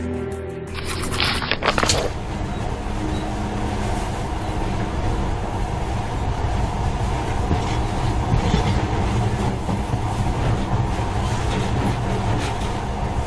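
A monorail in the Metro: Last Light video game rumbles steadily along its track, a loud, continuous rolling roar with faint rhythmic clatter that holds throughout.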